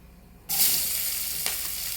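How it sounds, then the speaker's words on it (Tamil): Chopped onions hit hot oil in a frying pan, bursting into a loud, close sizzle after a quiet half second, then crackling steadily with one brief clatter. "இப்போ அதே பேனில் கொஞ்சோண்டு நம்ம கட் பண்ணி வச்சுருக்க வெங்காயம்"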